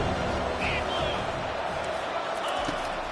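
Stadium crowd roar from a PS5 football video game on 3rd down, a steady wash of cheering noise under faint commentary, with occasional sharp whistles.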